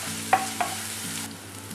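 Green chilli and curry leaves sautéing in oil for a Kerala-style prawn roast: a soft, quiet sizzle with a couple of light stirring clinks, no talking.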